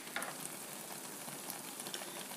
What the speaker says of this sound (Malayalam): ഇപ്പോൾ നമ്മുടെ മുന്തിരി നന്നായിട്ട് തിളച്ച് വന്നിട്ടുണ്ട്.